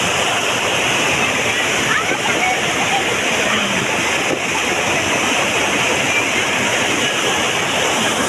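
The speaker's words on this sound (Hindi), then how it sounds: "वहाँ से देखिए इतना भयानक गदरा आ गई, पाइपलाइन भी उड़ गई" A mountain stream in a village swollen into a roaring flood after a dangerous heavy rain, with broad, steady, loud rushing water throughout and no pause, sounding near and powerful.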